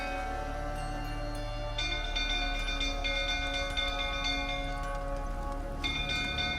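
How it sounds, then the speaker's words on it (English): A bell in The Witcher 3 keeps ringing, and its steady metallic tones, full of overtones, hang over a low, constant background drone. The strikes repeat at a regular pace and no voices are heard. "ring the bell again."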